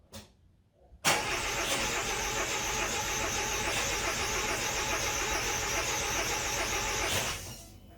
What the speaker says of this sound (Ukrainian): Двигун крув, нібито зовсім компресії нема.